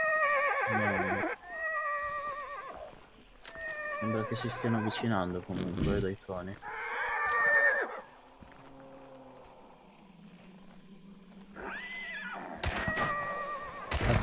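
Horse neighs and whinnies in Hunt Showdown, loud and repeated, with some clip-clop of hooves, mixed with game sounds while players talk over it throughout.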